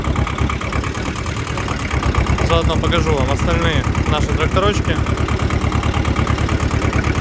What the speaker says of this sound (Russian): Достаточно мягенько, кстати, трактор едет.